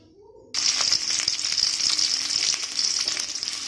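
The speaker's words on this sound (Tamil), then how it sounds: "கொஞ்சமாக எண்ணெய் ஊற்றி கடுகு போட்டுட்டு கடுகு நல்லா பொரிஞ்சதும்" Loud, steady crackling sizzle of mustard seeds popping in hot oil in a kadai, starting abruptly after a brief quiet moment and continuing densely throughout.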